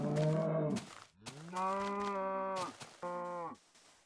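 Minecraft cows in release 1.0 give three drawn-out moos one after another, close and clear, with short pauses between them and no voices.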